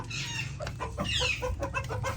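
Close, short clucks and throaty calls from a Black Polish rooster, several in quick succession with brief pauses, no talking.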